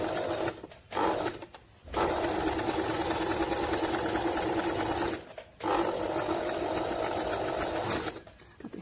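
A Singer Talent 3321 sewing machine runs close up while stitching decorative patterns, with a steady mechanical whirring in long bursts broken by two short pauses.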